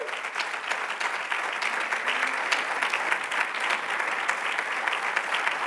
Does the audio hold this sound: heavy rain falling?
no